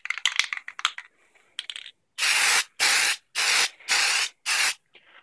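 Valspar high gloss lacquer sprayed from an aerosol can: a few rattling shakes and clicks, then five loud, close hissing bursts of about half a second each, separated by short pauses.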